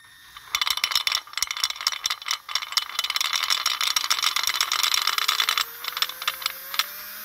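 Warn mechanical back-up alarm rattling as the vehicle drives forward: rapid, dense metallic clattering and ticking for several seconds, fairly close, over a faint rising engine whine, fading slightly toward the end.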